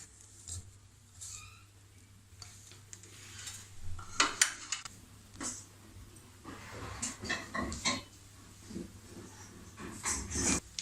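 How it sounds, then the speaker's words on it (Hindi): Spices being stirred into a semolina and potato pakora batter in a bowl, soft scraping and clinking of a spoon against the dish in uneven bursts, close and fairly quiet, with no talk. "इसको अब हम करेंगे मिक्स मसाले को, हमारी सूजी और आलू के पकौड़े।"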